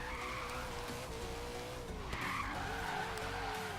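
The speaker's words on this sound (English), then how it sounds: "even at a high speed, it's drifting fairly well" A 1970 Dodge Challenger R/T drifting at high speed in Forza Horizon 3, with tires squealing in long wavering screeches over the engine's steady drone.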